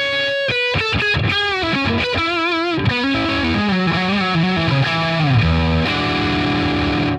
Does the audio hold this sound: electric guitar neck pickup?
yes